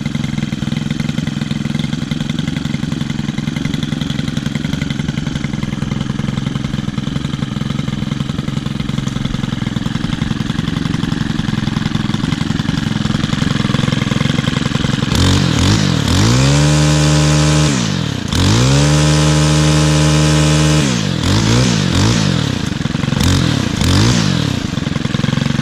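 An Echo or Stihl small two-stroke engine idles steadily and loudly, then revs up sharply several times in quick successive throttle blips with a buzzing, rising whine.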